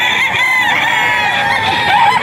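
Chickens cluck and a rooster crows loudly and close at a farm full of hens and farm breeds, a dense continuous flock chorus with no talking.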